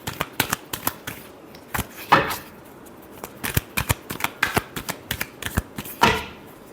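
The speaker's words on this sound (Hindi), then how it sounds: "Last shuffle." A deck of tarot cards is shuffled close up, making a fast series of crisp riffling snaps and flutters, with a few louder bursts and no voice.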